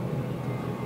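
A military training airplane rolls down the runway at rotation speed and lifts off, a steady, close engine roar heard for under a second with no talk.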